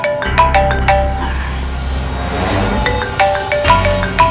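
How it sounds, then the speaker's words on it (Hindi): A mobile phone ringtone plays a bright, repeating melodic pattern, pausing briefly in the middle before resuming, loud and close with no talking. "इसका फोन बज रहा है।"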